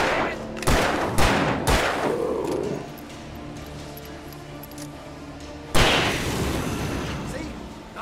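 Gunfire in Alan Wake Remastered: a rapid burst of three or four loud, close shots, a ringing decay, then one more heavy blast near the end, with a voice briefly heard.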